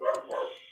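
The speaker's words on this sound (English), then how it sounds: "and sorry about the dog." A dog barks twice indoors, close and fairly loud, in two short bursts.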